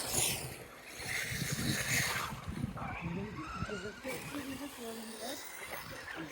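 A 1/6 scale FG Marder 4x2 brushless RC truck on a 1400 kV motor and 4S battery accelerates with a rising, whining motor note and tire noise, with someone talking over it.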